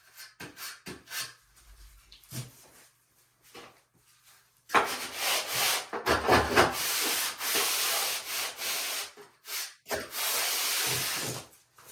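A trowel scrapes and smooths dry pack mortar across a shower pan in close, gritty strokes, starting with a few brief scrapes and then settling into longer continuous rubbing.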